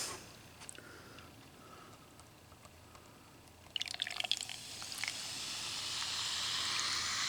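Dr Pepper Blackberry soda is poured over ice in a glass: a few faint clinks and drips, a splashy burst as the pour starts, then a steady rising fizz and hiss of carbonation.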